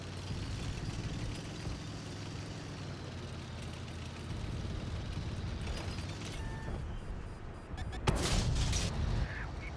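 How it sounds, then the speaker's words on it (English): Incoming gunfire aimed at the player's squad in a video game, a steady rumble of distant shooting and impacts that ends in a louder burst of shots. "Something's shooting at us."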